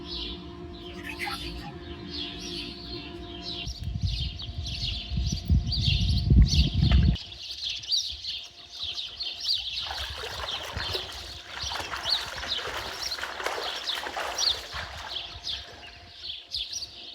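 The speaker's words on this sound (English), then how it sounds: "Listening to the birds sing." Birds chirp and sing steadily in the morning at Bashford's Hot Springs Resort near Slab City, a mix of bright repeated calls over faint trickling water and low rumbling in the first half.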